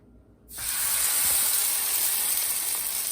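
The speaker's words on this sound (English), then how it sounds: "It's going to sizzle." A beef tenderloin roast hits a very hot pan and breaks into a loud, steady sizzle. The sizzle starts abruptly about half a second in and holds up close and constant until the end.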